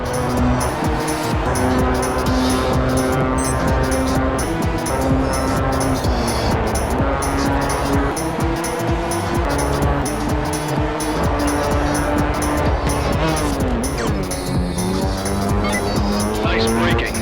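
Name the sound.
race car braking and tire squeal in R: Racing Evolution video game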